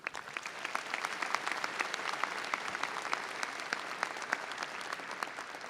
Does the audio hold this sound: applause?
yes